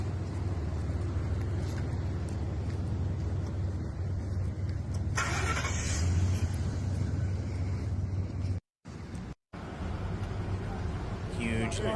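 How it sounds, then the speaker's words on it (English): Steady road traffic as lines of cars evacuate ahead of a wildfire near Jasper, Alberta, a continuous loud engine and tire rumble throughout, with a brief dropout near the end. "Huge lineups, traffic getting out of the path of the flames."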